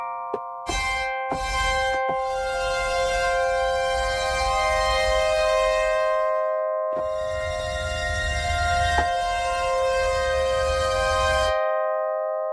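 A synthesizer patch built on a Korg Opsix sounds as a sustained, bright tonal chord with a bell- or siren-like quality, holding for several seconds, cutting off, then returning for a second long sustained passage before stopping abruptly.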